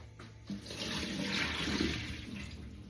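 Boiling water is tipped out of a bowl into a sink, a close, splashing gush that pours for about two seconds and then tails off.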